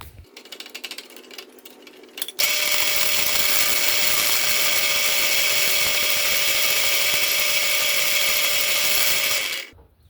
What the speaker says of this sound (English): I didn't even drill eye sockets.